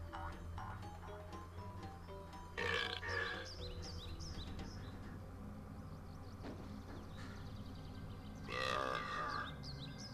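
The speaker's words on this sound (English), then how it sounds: "Ends on burps and Spyro shaking his head." Cartoonish burps sound from the ending scene of Spyro Year of the Dragon on PS1, several gulping belches over a steady bed of game music and ambience, two louder bursts standing out.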